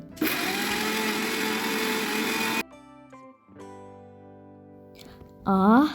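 A kitchen mixer grinder whirs loudly for a few seconds while blending ginger, green chilli, turmeric, mustard, poppy seed, sour yogurt and salt into a paste. It then cuts off, leaving quieter tones, and a voice is heard at the end.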